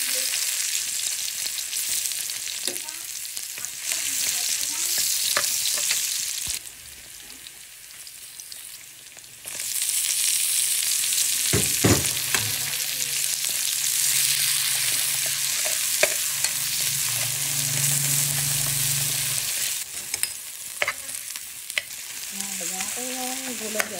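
Cabbage frying in a pan after fish, a dense close sizzle with stirring scrapes and clinks, dipping briefly as the pan quiets, then sizzling loudly again.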